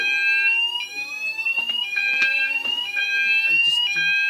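Fire alarm sounder wailing during an alarm test, a steady loud electronic tone with a slightly rising pitch and overtones, continuous throughout, with faint handling knocks beneath it.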